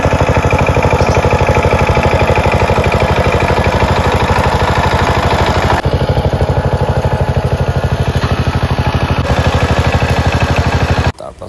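A loud engine drives a pump lifting water into a rice paddy field, chugging in a steady, rapid rhythm that runs almost without a break and stops abruptly at the very end.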